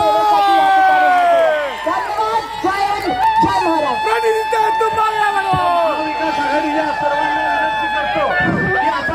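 A large political rally crowd, gathered for MLA Praniti Shinde's show of strength at her nomination filing, fills the air with loud, continuous babble, shouts and scattered cheers, with overlapping voices close by and a dense, busy wash of sound throughout.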